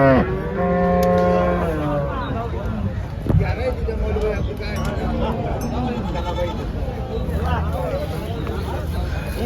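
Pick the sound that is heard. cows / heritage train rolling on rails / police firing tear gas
cows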